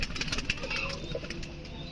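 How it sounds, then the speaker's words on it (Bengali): Pigeons on a farm cooing, soft repeated low coos close by over a mechanical hum and faint background chatter. "দেখুন কত সুন্দর কবুতর"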